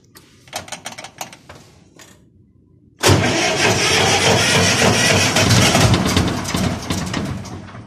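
An Ursus C-330 tractor engine cranks with a rapid rhythmic chugging, then after a brief pause bursts into a loud, sustained engine roar close to the microphone.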